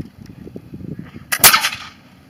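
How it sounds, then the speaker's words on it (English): A black powder .69 caliber musket fires once, a single loud, sharp blast with a broad roaring tail that fades over about a second, following quiet low rumbling handling noise. "then you pull it to full cock and it's ready to fire"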